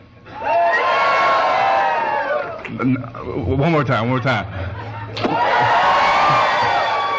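A morning keynote crowd shouts and cheers loudly in a side-versus-side loudness contest. Two long roaring bursts come at the start and end, with someone talking into a microphone in between.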